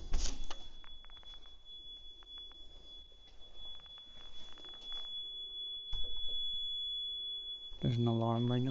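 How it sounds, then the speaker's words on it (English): Alarm in an abandoned Irish prison sounding as a continuous high electronic tone, steady and moderately loud, with footsteps and creaks around it and a voice speaking at the end. "There's an alarm ringing."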